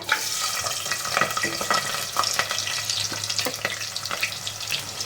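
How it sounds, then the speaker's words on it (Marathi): Onion, bay leaf and cardamom frying in hot oil for chicken biryani, a steady close crackling sizzle with scattered sharper pops and a few stirring scrapes, continuous and moderately loud with no voices. "इथे आपण तेलामध्ये तेजपत्ता टाकणार आहे आणि दोन वेलची कांदा टाकूया"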